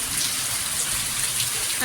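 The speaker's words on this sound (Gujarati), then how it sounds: "તો કેવો વરસાદ આવ્યો." Unseasonal rain pours steadily in a dense, even hiss of drops hitting surfaces, close and continuous in a village setting.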